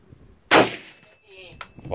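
A single rifle shot fired through a muzzle brake: one sharp, loud, close blast that decays quickly, followed by faint clanks and a brief voice.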